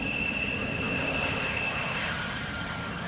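Embraer narrow-body jet landing at Amsterdam Schiphol Airport, a steady, fairly loud engine roar with a high whining tone, heard from a distance with no talking.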